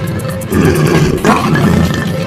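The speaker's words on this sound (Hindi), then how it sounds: "गोलू जानवर की दहाड़ को कोसों दूर से सुनकर महसूस कर सकता था" A tiger roars loudly and close, a rough, rumbling growl that surges in two strong bursts over about two seconds, heard alone without any talking.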